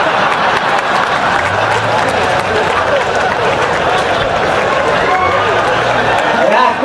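Steady crowd applause at a Hindi poetry recital fills the whole stretch, dense and continuous, with a murmur of voices mixed underneath.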